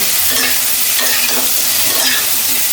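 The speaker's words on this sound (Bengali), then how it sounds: "এভাবে সবগুলো সবজি ভেজে নেব" Potato and cauliflower pieces fry in hot oil for vegetable khichuri, a loud, dense, continuous sizzle with stirring scrapes, close up and without talking.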